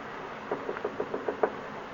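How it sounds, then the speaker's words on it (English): Seven quick, evenly spaced knocks on a door sound in a steady row, moderately near, over a faint hiss, as a radio drama sound effect. "Did you hear a knock?"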